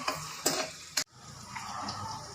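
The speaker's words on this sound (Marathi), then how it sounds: "लसूण आणि मिरची छान फ्राय होऊ द्यायचे" Garlic and green chili sizzle steadily in hot tempering oil for a masala atta noodle dish, with a few sharp scrapes of stirring early on before the frying settles into an even crackle.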